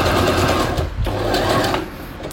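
Brother JA20 sewing machine stitching, a fast steady mechanical whirr close by with a slight dip around the one-second mark.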